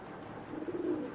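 A pigeon of Oman bloodline gives a soft, brief throaty coo close by. The coo is faint against a quiet background.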